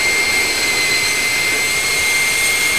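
An electric ducted fan on a bench spins under light throttle, a steady high-pitched whine with a sharp tonal hum, constant and close throughout.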